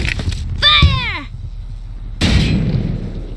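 A tank cannon in the tactical war game Valkyria Chronicles fires at a turret. A heavy boom lands near the end, with a descending whine and other battle sounds just before it.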